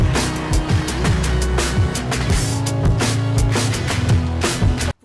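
A loud, driving, heavily distorted guitar riff pounds out rhythmic chugging chords with sharp regular accents for about five seconds and then cuts off abruptly, with no voices over it.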